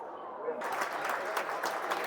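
Football crowd at a Millwall versus Royal Antwerp pre-season match applauds as a player leaves the pitch, steady distant clapping under a commentator's voice.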